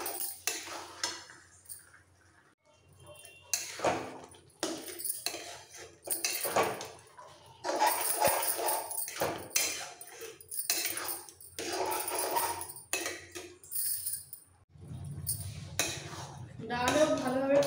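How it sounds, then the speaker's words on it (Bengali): Lentils stirred with spices in a pan, with scraping and clinking utensil strikes in uneven bursts, close up, with some background noise between strokes. "মশলার সাথে ডালটাকে একটু কষিয়ে নিতে হবে।"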